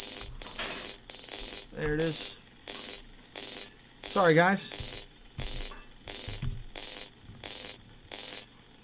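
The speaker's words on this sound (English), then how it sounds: "All my alarms are going off." Trading alarms beep in a steady pattern of regular high electronic tones, about one each second, loud and close, while someone speaks briefly between the beeps.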